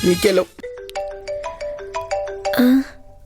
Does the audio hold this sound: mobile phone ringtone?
yes